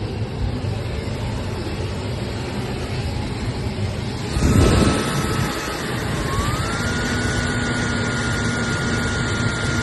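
Air rushes steadily from the middle vents of a Nissan NV3500 van with a rear air flow kit, a constant broadband whoosh under road and engine noise, with a brief louder gust midway and a faint whine.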